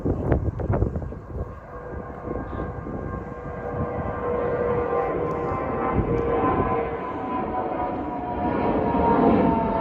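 A propeller warbird climbing away from the airport runway at a warbird park in Myrtle Beach, South Carolina, gives a broad, steady engine drone that slowly builds in loudness, with no talking.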